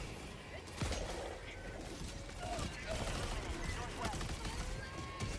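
Sentry turrets fire in Helldivers 2, a ragged series of sharp gunshots and bursts with crashing impacts scattered through the scene, heard under ongoing talk.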